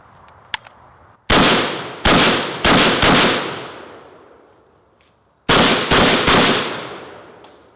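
Several sharp gunshots from a Zastava M92 PAP pistol, fired in two quick groups of three to four shots, each loud crack ringing out and decaying, with a quiet gap between bursts.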